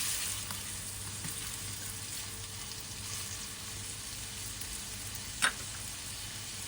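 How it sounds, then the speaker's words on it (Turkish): Red capia peppers fry in a pan over medium heat with a steady close hiss and sizzle while being stirred, with soft scraping throughout and one sharp clink near the end. "Kapya biberlerimi ekliyorum. Yine karıştırıyorum."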